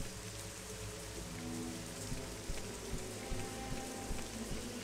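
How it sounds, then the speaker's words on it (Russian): Steady rain falls in the Morrowind Tamriel Rebuilt game, a soft continuous patter with scattered droplet ticks over a faint low hum, with no voices. "Дождливо только что-то."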